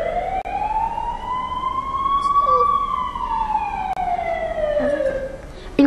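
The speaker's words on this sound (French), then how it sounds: "Le matin, par 3 fois, la sirène y gémit." A siren wails steadily, rising and falling in one long sweep, loud and continuous over faint traffic.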